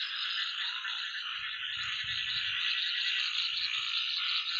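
Frogs croak steadily through a night scene outdoors, a dense, continuous chorus of many calls layered together at close to moderate distance, with no voices present.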